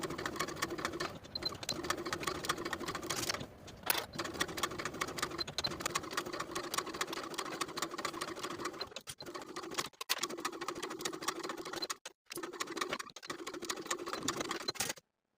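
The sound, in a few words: sewing machine sewing collar pieces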